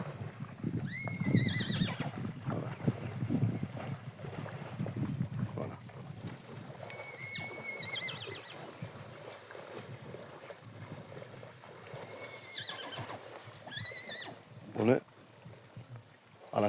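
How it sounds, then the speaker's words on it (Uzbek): Horses on a farm neigh several times in loud, shrill whinnies, with hooves clip-clopping and water flowing nearby, while people talk in between the calls. "Ana Surxonzoddor otlari fermer xo'jaliginiki."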